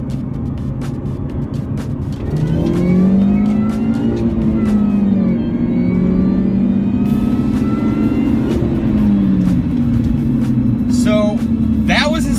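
A car fitted with an aftermarket air intake revs up and down, its engine tone rising and falling with a whine over roughly ten seconds, close and loud, with a voice speaking over it.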